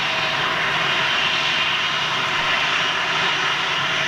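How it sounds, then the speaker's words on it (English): Airbus A330 airliner coming in to land at Manchester, a steady, loud jet engine roar that holds constant throughout with no voices over it. "330 landing right behind him"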